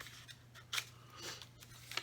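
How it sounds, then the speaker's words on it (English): Scissors snip through paper while trimming a coin envelope flap, giving a few quiet, close cuts spaced apart over a low steady hum; no talking. "And I would just cut it off here"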